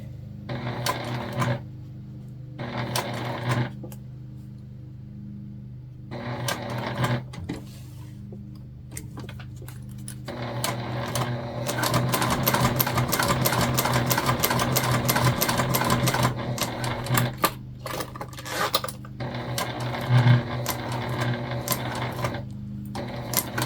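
A sewing machine stitches a fabric ID holder with a sticky needle, running in short whirring bursts separated by pauses, then a long steady run, with small clicks of handling in between.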